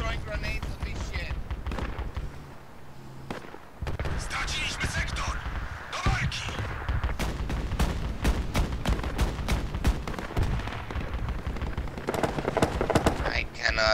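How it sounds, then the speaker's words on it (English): Grenade blasts and rapid gunfire crash through a chaotic video game battle, with friendly armor pushing up and enemy infantry approaching; dense bursts of shots and booms sound loud and continuous over about fourteen seconds, with a brief lull near the start. "Who's throwing grenades on this shit?"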